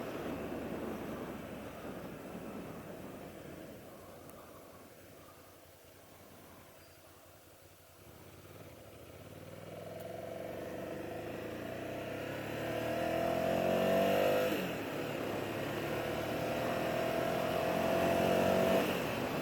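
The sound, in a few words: 2006 Ducati SuperSport 800 motorcycle engine warming up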